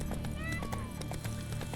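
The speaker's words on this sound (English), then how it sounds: "Horse is freaking out." Roach, the horse in Witcher 3: Blood and Wine, panics with whinnies and stamping hooves, a rhythmic clip-clop beneath high neighs over dense game sound and a speaking voice.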